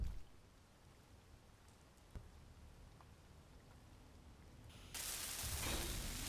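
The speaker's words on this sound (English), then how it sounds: "The rain is being the bane of my existence." Steady rain in Space Engineers, a soft constant patter with a brief knock, then swelling into a louder, harsher downpour near the end.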